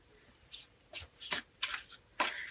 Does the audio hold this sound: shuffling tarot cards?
yes